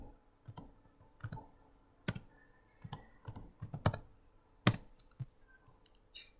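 Keys clatter on a computer keyboard as commands for configuring RIP on a Cisco router are entered, with irregular bursts of separate clicks and a few sharper, louder keystrokes, heard close and alone with no talking.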